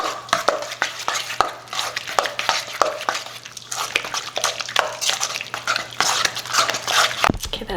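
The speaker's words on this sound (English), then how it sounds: "I'm gonna do garlic and pepper. And then stir that up." Garlic and pepper being stirred into a buffalo-style party dip in a bowl, a continuous close scraping and tapping of a utensil with irregular sticky clicks.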